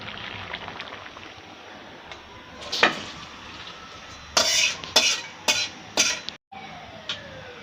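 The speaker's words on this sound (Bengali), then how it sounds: "এখন আমি বাগার দিব" Spices tempered in hot oil for a vegetable dish: a soft sizzle runs beneath a series of sharp clinks and scrapes of a spoon against the pan, heard close and without talk.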